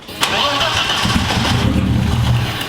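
A car engine cranks and catches, then settles into a loud, close running rumble while a person talks over it.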